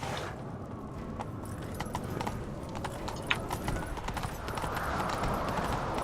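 Horse hooves clip-clop in a rapid, steady gallop over a dense rumbling background, continuous throughout, in the video game The Witcher 3: Wild Hunt.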